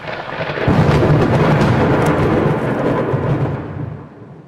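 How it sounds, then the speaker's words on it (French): A stage-effect thunderclap for a lightning strike at an opening ceremony show: a sudden deep boom that swells into a long, heavy rumble and slowly fades away. "un éclair frappe"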